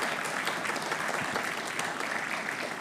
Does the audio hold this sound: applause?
yes